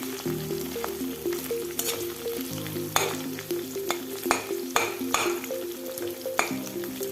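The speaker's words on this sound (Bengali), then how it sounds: "এবার কাঁচা লঙ্কাটাকে দিয়ে দিচ্ছি। আবার একটু নাড়াচাড়া করে নেব।" Onion and green chilli fry in a pan for a chilli pasta, with steady sizzling under repeated sharp scrapes and knocks of a spoon stirring; there is also a tonal background sound, likely music.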